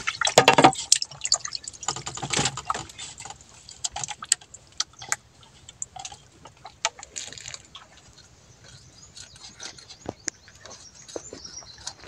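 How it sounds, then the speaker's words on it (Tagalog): Freshly caught fish being rinsed at an aquaculture farm: water splashes and drips in uneven bursts, loudest at the start, while chickens cluck and a rooster calls faintly in the background. "Hugasan muna natin."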